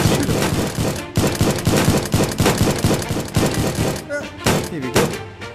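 Rapid gunfire in a VR shooting gallery game on a Quest 2, loud repeated shots in quick bursts with clanking target hits, while a player talks excitedly over them.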